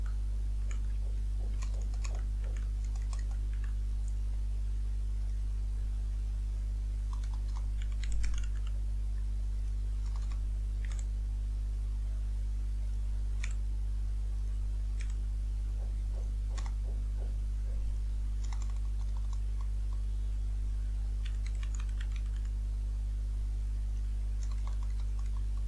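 Keys on a computer keyboard clatter in quick irregular bursts as code is typed, close and soft over a steady low electrical hum, with no talk.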